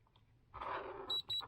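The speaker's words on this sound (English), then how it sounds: "it's going to beep and power up straight away" A recording device beeps as it powers up over USB-C, a soft whirring burst followed by two short, close electronic beeps.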